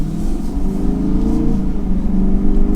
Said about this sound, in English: We'll start in the basic drive mode right now and just get up to some speed.